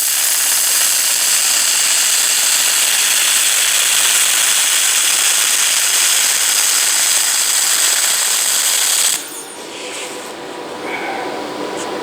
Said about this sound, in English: I'm just gonna weld this